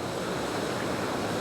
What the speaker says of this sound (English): as the water's coming down it's sweeping past me on the left hand side